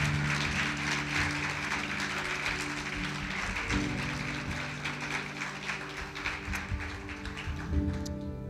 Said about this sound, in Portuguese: Aplaude a Jesus então, com força.